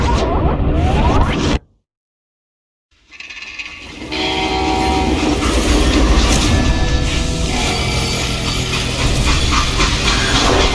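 A train in the western video game Call of Juarez: Gunslinger, loud rumbling and clanking rail noise that cuts to silence briefly, then resumes as a steady heavy roll.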